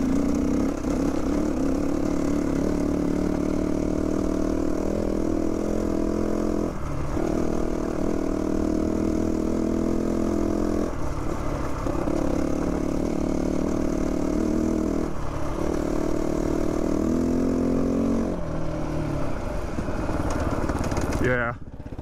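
A 2022 GPX Moto FSE450R motorcycle engine runs at a steady, loud drone through most of the ride, with brief dips where the throttle eases before it resumes, close and continuous.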